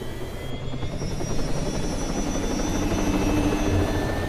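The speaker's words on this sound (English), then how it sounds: "I've just plunked the helicopter down on this smaller island, and we're just going to fly up" A helicopter in the video game Arma 3 flies over an island, its steady rotor and engine drone holding close and loud throughout with no talking.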